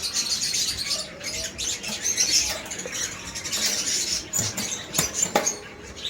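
Caged pet birds, including a Lutino hen, chirp and tweet in short, repeated bursts at close range, with light rustling and fluttering in the cage.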